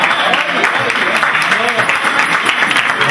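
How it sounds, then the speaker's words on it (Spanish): An audience at a Christmas carol concert by a choir applauds its director, with close, loud clapping mixed with voices and cheers from the crowd. "¡Un aplauso para el Paco!"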